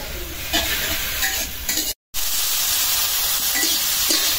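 Greens, sweet gourd leaves, frying in a home kitchen pan: a steady, close broadband sizzle and hiss with stirring scrapes, briefly cut by a short gap of silence before the sizzling resumes.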